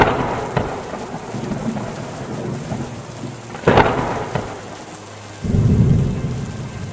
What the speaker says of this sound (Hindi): एक रात आंधी के साथ साथ बहुत तेज बारिश होने लगी।